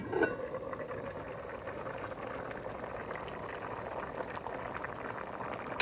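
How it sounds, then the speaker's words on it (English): Stewed peas with pigtail and beef boil in a covered pot, a steady close bubbling and gurgling that continues without a break, with no talk over it. "Cover and allow that to boil."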